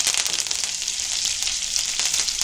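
Chillies and curry leaves fry in oil, sizzling and crackling steadily and loudly throughout, a dense hiss of frying close by with small pops scattered through it.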